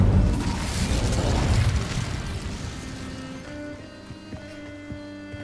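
A fire spell cast in the Hogwarts Legacy video game bursts out as a loud, roaring whoosh of flame that swells and fades over a few seconds, leaving a quieter tonal hum and faint clicks behind.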